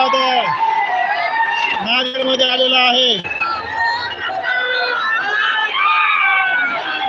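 A dense crowd of Maratha supporters cheers at Manoj Jarange Patil's rally in Nanded, where a convoy of hundreds of vehicles arrives. Loud, continuous hubbub with rising shouts and whoops runs throughout, under someone talking steadily.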